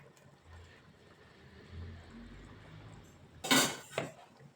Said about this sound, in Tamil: அந்த மிக்ஸிங்கை இதில் நம்ம இப்போ சேர்த்துக்கலாம்.